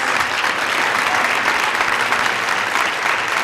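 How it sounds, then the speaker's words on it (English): An audience applauds the DJ, Joe, at a Thursday talk event: steady, dense clapping from a crowd nearby that holds at an even level throughout without pause. "Can we have a nice round of applause for Joe, please?"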